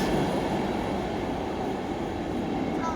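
Steady roar of a PKP intercity train running through a tunnel, a dense continuous rumble with rail noise heard from inside the carriage, unchanging and fairly loud with no talk.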